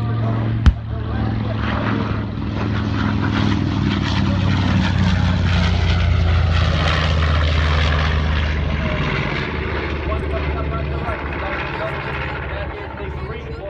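A WWII PBJ patrol bomber, a North American-built twin-prop plane, roars overhead at the Oshkosh airshow, a loud sustained engine drone building and fading across the pass, with a sharp pop near the start and crowd noise beneath.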